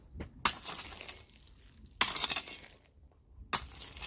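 A hand tool scraping through loose stone and sand, three harsh gritty crunching strokes spaced about 1.5 seconds apart, each starting sharply and fading, close and fairly loud.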